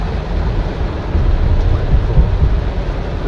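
Heavy rain pours steadily in Kuwait, a dense, loud, continuous wash with a low rumbling undertone, close and unbroken throughout with no voices.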